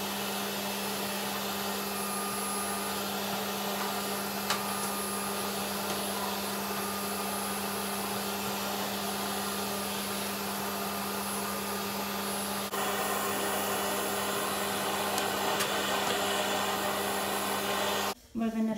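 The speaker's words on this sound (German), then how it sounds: "Ich empfehle euch, das mit einem Staubsauger zu machen." Vacuum cleaner used to clean household radiators, a loud steady droning whine with a constant hum running the whole time, its pitch shifting slightly partway through and cutting off sharply at the very end.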